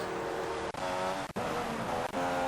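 McLaren race cars in a racing video game pulling into the pit lane, a steady loud engine drone with harmonic whine, briefly dipping three times as the cars pass.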